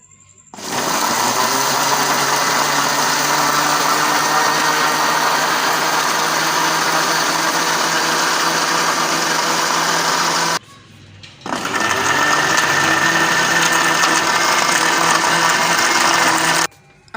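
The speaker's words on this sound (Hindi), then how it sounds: "अब मैं तकरीबन 1 मिनट मशीन को और चला लूँगी" A mixer grinder blending mango milkshake with milk runs as a loud, steady high-pitched whir for about ten seconds, stops briefly, then starts again for several more seconds, with no talk.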